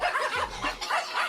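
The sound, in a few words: dog barking sound effect played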